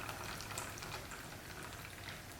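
Water being poured into an OXO Good Grips pour-over coffee maker, a steady, even splashing and trickling that runs without a break at a moderate, close level.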